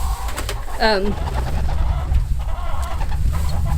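Chickens cluck nearby, including one brief rising squawk, over low background noise and indistinct voices.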